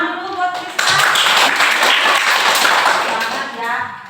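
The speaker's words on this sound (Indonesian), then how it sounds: "Ya, tepuk tangan dulu buat Krisna." Loud, close audience clapping for Krisna during a Hindu religious education lesson, bursting in abruptly and holding as a dense, even wash of many hands before easing slightly at the end.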